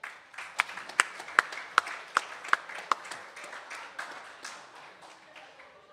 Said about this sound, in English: thank you to the RSL with a round of applause